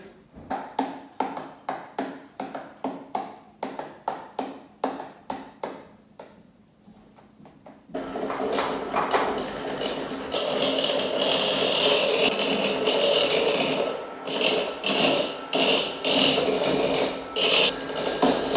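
Six eggs, sugar and vanilla are mixed in a bowl, first as a quick run of close rhythmic taps and clinks, then as a denser, continuous whirring churn.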